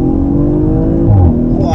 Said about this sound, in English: this looks like a good spot to try out an acceleration off the line